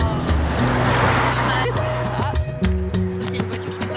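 A car on the road drives past, its engine droning with tones that shift in pitch as it approaches and moves away, fairly loud and close.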